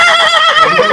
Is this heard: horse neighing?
yes